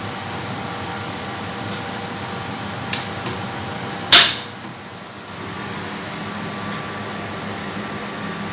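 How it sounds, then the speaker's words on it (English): A laboratory centrifuge spins cells at 1500 rpm, giving off a steady whirring hum with a high whine on top, interrupted midway by a single sharp knock. "we have to centrifuge at 1500 rpm for 2 minutes"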